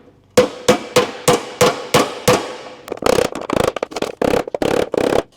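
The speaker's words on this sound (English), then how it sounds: "to do that flattening, I've just got a hammer and dolly" A hammer strikes a steel oil pan over a dolly from a 1957 Chevy, first in seven evenly spaced sharp metallic blows, then in a faster, denser flurry of ringing hits, close and without talk.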